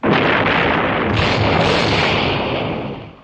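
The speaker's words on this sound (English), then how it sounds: "Our mortar has hit their mines." A mortar shell strikes a minefield and sets off an explosion, a loud sustained roar of blast and rumble that begins abruptly and slowly tapers off near the end, with no voices.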